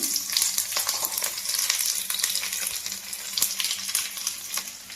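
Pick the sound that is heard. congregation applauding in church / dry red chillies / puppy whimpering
dry red chillies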